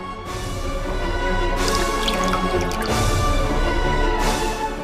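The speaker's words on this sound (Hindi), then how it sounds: "रसाल, कंगना उसे पानी पिला।" Drinking water is poured into a glass or cup indoors, a steady close liquid stream with small drips, loudest through the middle of the pour.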